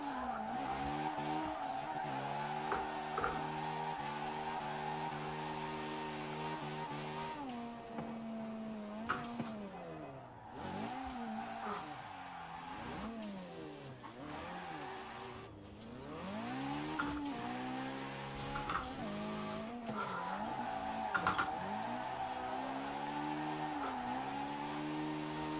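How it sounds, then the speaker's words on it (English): A drift car sliding around Fortune Island in Forza Horizon 4 gives long wavering tire squeals and skids over a revving engine whose pitch swoops up and down, continuous and fairly quiet, with no talking. "Definitely been a while since I've been over here at Fortune Island and drifted."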